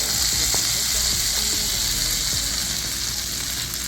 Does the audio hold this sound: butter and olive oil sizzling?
yes